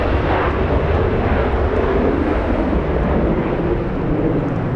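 A jet airliner departs from runway 24 right at LAX, its engines a loud, rumbling roar close by that holds steady across the whole span, alone with no voices.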